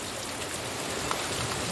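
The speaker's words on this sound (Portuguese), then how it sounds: "quero mostrar aí nesse vídeo a chuva aqui no sítio" Steady rain falls on a farm in Brazil, a dense even hiss of drops on surfaces with no breaks and no voices.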